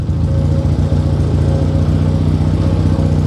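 A 1976 Honda CB 200 twin motorcycle idles steadily close by, a continuous loud, even engine drone with a low throbbing pulse and no voices.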